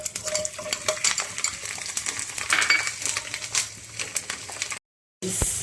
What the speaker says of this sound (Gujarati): હવે આ 2 પરી તેલની અંદર આપણે લસણ સાતરવાનું છે.